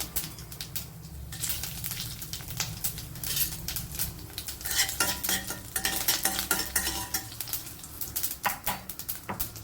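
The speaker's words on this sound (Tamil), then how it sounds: "இப்போ எடுத்து வச்சுருக்க கடுகு சீரகத்தை சேர்த்துக்குருவோம்" Mustard seeds and cumin frying in hot oil for a Tamil mor kuzhambu, giving a steady close sizzle with dense popping crackles and occasional stirring clinks throughout, no voices.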